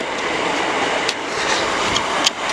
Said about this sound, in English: 377 something or other, which I've forgotten already, heading to London Victoria from Reigate